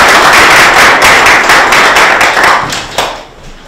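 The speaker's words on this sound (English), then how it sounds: "Can I have a warm applause for Dr." Loud, close applause welcomes a guest speaker, Dr. Luzanne Grundling, with some sharp individual claps standing out; it stays full for nearly three seconds, then thins out and fades.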